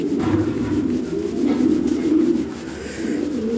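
Fancy Lahore pigeons at a sale coo in low, throaty rolling calls, close and continuous over a faint background hum.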